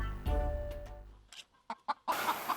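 Chickens cluck in a few short, separate bursts after a low rumbling start, fairly close, ending in a louder scrambling burst of noise.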